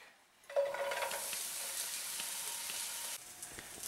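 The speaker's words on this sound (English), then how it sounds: "adding the oil, when it starts to heat up, you want to put your onion in there" Onion drops into hot oil in a pan for a pork ramen stir fry, bursting into a sudden loud sizzle that holds steady for a few seconds, then eases to a quieter crackle.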